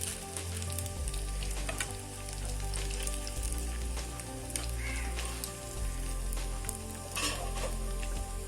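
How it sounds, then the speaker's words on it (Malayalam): Fish pieces fry in hot oil in a pan for fish pickle, a steady dense sizzle running throughout with occasional louder spattering crackles, close and loud, no voices. "അപ്പോൾ ഇനി നമുക്കിത് വറുത്ത് പോരാം"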